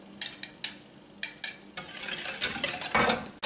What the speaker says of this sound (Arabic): غادي نحرك